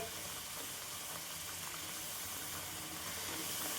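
Ground masala paste frying in oil for paneer Hyderabadi gravy, a steady close sizzle and hiss continuing without pause and no talking.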